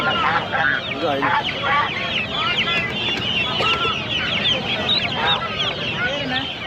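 Chickens cluck and squawk continuously at a busy hen market at Ponmalisanthai. The birds are moderately loud, with overlapping calls and crowd murmur mixed in throughout.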